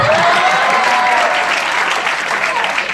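A college cultural association inauguration audience breaks into steady, dense applause, loud and close, sustained throughout without pause.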